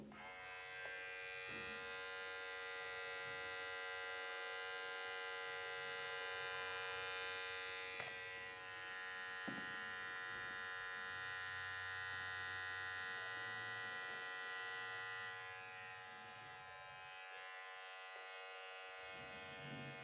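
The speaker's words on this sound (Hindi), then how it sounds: "हमारा ट्रिमर भी मैं स्टार्ट करता हूँ" Electric trimmer running during a phone sound-meter test, a steady high-pitched motorized buzz with strong tonal harmonics, continuous and fairly loud throughout with no talk.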